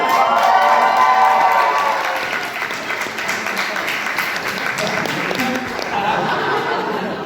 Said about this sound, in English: Give him a cheer, he's right here.